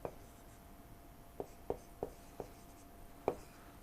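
Pen or chalk writing during a lecture, with about six short, separate taps and strokes spaced irregularly over a quiet room hum and no talking.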